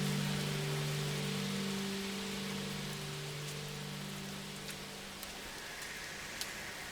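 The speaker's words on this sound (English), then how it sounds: "We have tropical storms. It's a rainy planet." Steady, dense rain from a tropical storm on a rainy planet in the video game No Man's Sky, with a low tonal drone fading out early and a few faint ticks near the end.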